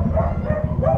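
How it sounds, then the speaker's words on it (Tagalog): A dog barks and yips in quick repeated bursts in a relocation site neighborhood in Batangas City, fairly close and loud against steady outdoor background noise. "Binabarumbal ng aso."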